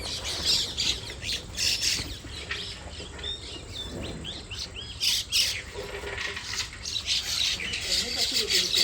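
Repeated harsh bird squawks and chirps from several birds outdoors, overlapping in bursts, fairly near, with a steady background of insects and ambient noise.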